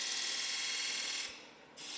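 A lathe point tool with three edges cuts a 45-degree chamfer on a workpiece before threading, giving a steady, close scraping hiss that drops briefly in the middle and then returns, with no talk.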